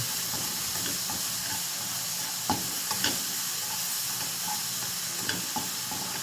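Onion and garlic frying in a pan for crispy pork kare-kare, making a continuous close sizzle with a few sharp pops and the scrape of stirring, with no one talking.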